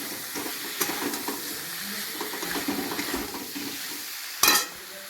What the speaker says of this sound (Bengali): এবারে মশলাগুলোকে ভালো করে সবজির সাথে কষিয়ে নেব।